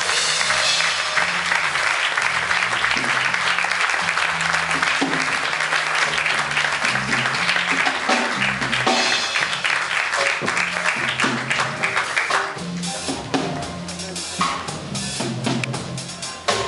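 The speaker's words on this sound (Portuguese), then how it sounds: "Uma salva de palmas para o Brasil" Sustained applause from a concert audience welcoming a chromatic harmonica player performing with a big band, loud and steady for most of the stretch before thinning out toward the end, with a low instrumental hum beneath.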